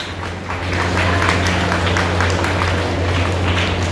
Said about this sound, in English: Clapping for these children.